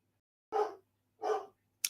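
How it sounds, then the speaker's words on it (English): Two separate barks from a dog at a moderate distance, spaced about a second apart, followed by a brief sharp click; otherwise quiet. "If you can hear that, he's barking in the background."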